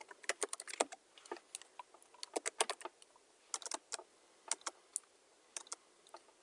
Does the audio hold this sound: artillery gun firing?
no